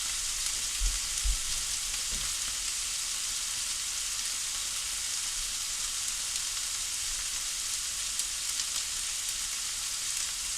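Steak and scallops frying in a pan, a steady close sizzle with brief low knocks early on and no talk over it.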